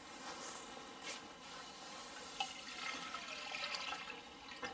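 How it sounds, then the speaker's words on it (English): Vinegar poured into a container for a steel wool stain, a steady broadband liquid rush that runs the whole time with a few louder splashy surges, close and alone. "Pour the vinegar into that."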